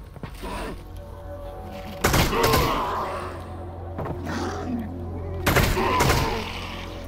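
Gunshots in the VR game Half-Life: Alyx, two loud bursts of fire that ring out over a steady low mechanical hum, with quieter clatter in between.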